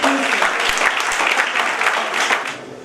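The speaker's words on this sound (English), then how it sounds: "please give a round of applause to Professor Dr." Conference audience applauding a professor at a multidisciplinary language and education conference, steady close clapping that tapers off at the end.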